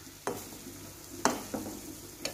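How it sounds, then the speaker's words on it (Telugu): Tamarind fish curry with salted fish pieces stirred slowly and gently in a pan, giving a few soft scrapes and clinks spaced across a low simmering hiss, close and quiet. "ఇలాగా సాల్ట్ వేసి చేపలు విరిగిపోకుండా నెమ్మదిగా నెమ్మదిగా ఇలాగా తిప్పుకోవాలి"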